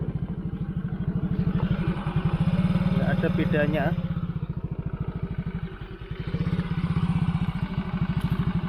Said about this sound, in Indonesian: ini coba saya start kayak gini suaranya